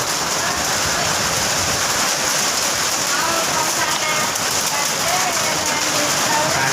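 Heavy rain with hail pours down outside a house, a steady, loud, unbroken hiss of drops striking surfaces throughout.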